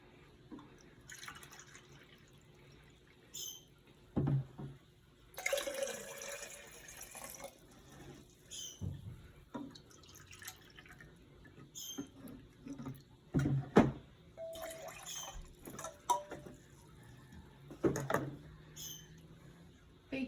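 Vinegar poured over popcorn makes faint, scattered trickles and small splashes that come in uneven bursts against a quiet background.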